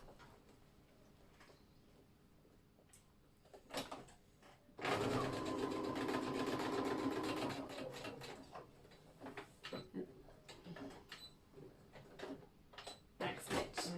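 A sewing machine stitching jeans runs in one steady burst of about three seconds, framed by quieter clicks and handling noises before and after.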